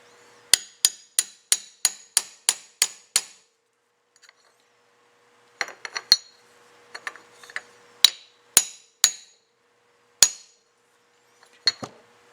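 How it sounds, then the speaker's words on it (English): Sharp metallic hammer strikes on a punch setting a rivet in a Carter vacuum canister: a quick run of about ten evenly spaced blows, a pause, then scattered single taps, close and loud with no talk. "if you have a punch, you set it on top, make sure it's in that hole."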